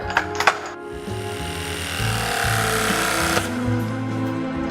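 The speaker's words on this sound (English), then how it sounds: "Lugs crimped." A battery-powered RE6 electrical tool crimps lugs with a steady motorized whir lasting a couple of seconds, preceded by a few sharp metallic clicks, close and fairly loud with no speech.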